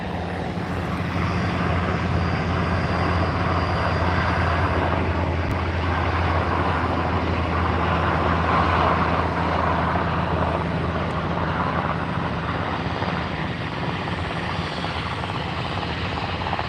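Aircraft engines at Aberdeen Airport, a loud, continuous droning roar that holds steady for the whole stretch with no voices over it.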